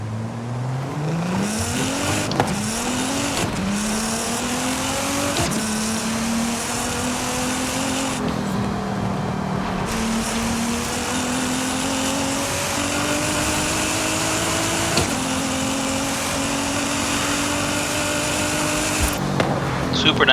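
Nissan 240SX with a drag tune in Forza Horizon 5, engine droning and climbing through repeated gear changes for a long stretch, loud and steady, with someone talking over it.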